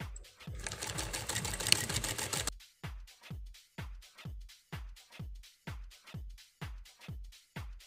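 A sewing machine runs a hidden zipper seam, first in a continuous fast whir for about two and a half seconds, then in a steady series of evenly spaced stitching bursts, close and moderately loud, with no talking.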